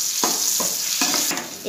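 Masala frying in a pan hisses steadily while a spoon stirs it in four or five rhythmic scraping strokes, close and fairly loud.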